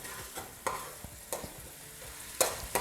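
Vegetables and spices frying together in a pan for vegetable rice, a steady low sizzle broken by a few louder stirring scrapes and clatters, no talking.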